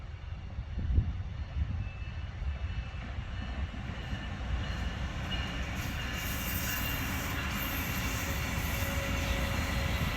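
A Brightline high-speed train runs along the track with a steady low rumble and rushing rail noise that builds gradually, loud and continuous throughout, with no voices heard.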